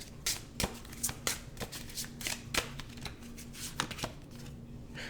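Tarot cards being shuffled by hand, a run of crisp riffling bursts and soft slaps repeating every half second or so, close and fairly quiet, with no voice over them.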